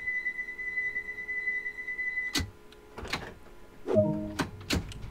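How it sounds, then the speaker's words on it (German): London Underground Bakerloo Line train doors closing in Train Sim World 2: a steady electronic warning tone, then several sharp thuds and clunks of sliding doors shutting, fairly close and clear. "Türen schließen."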